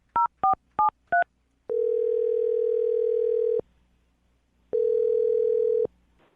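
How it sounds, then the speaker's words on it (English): A telephone line gives four quick keypad tones, each a short beep, followed by two long, steady ringing tones separated by a pause, all clear and close with no talking. "I'm going to dial his phone number right now."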